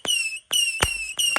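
Fireworks from a fuse-lit firecracker setup during a Ramadan night celebration fire in quick succession, four sharp whistling shots with a tonal shriek and crackling pops, loud and close.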